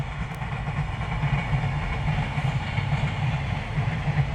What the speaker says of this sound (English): A train going by.